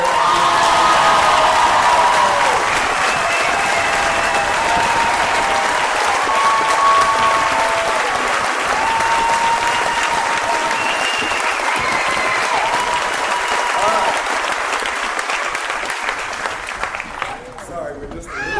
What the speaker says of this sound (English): Can we hear it for our operations people here?